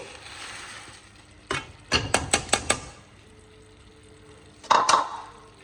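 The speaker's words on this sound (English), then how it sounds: "Next, cardamom powder, about 3 to 4 cloves. Pound it." Cardamom pounded by hand, a single thud followed by a rapid run of four or five sharp knocks, then a pause and another pair of close hits, with no talking.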